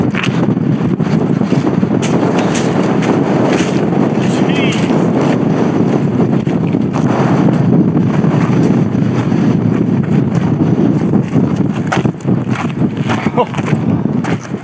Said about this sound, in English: Talk about windy gap.